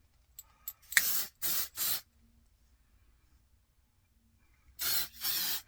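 Several short, sharp hisses of a lime and orange scented spray bottle come in quick bursts, three close together, then a pause before two more, loud and near with quiet in between.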